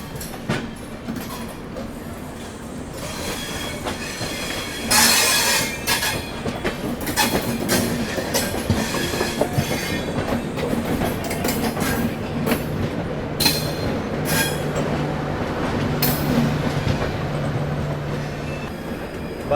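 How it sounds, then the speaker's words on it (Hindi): A long-distance express train rolling into an Indian railway station, with a steady loud rumble, rhythmic wheel clatter and occasional squeals and horn-like tones throughout, with faint voices underneath. "आई थिंक कोई ट्रेन अराइव कर रही है"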